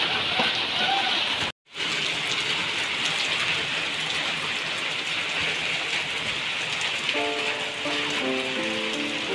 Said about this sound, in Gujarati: ચોમાસાનો પહેલો વરસાદ એકદમ જોરદાર।